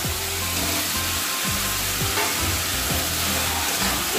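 Jackfruit pieces frying in a pan with cooked-down tomatoes and stirred with a spoon: a constant loud sizzle with repeated scraping strokes and low knocks of stirring against the pan, with no voices.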